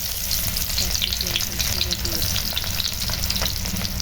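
Onion, whole garlic and green chili frying in hot mustard oil, a loud, dense, crackling sizzle right up close with a constant low rumble and light stirring throughout.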